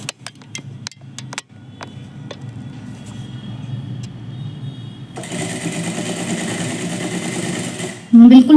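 A sewing machine stitches finely along a neckline design on readymade fabric, a steady close mechanical whirr that starts after a few clicks and runs on for several seconds, with a brief hum at the very end.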